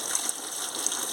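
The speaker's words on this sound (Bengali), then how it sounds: "আমি আনাজটা কেটে নিয়েছি, এবার ধুয়ে নিচ্ছি।" Cut snake gourd pieces rinsed under running water in a kitchen, a steady close gush of flowing water with faint splashing throughout.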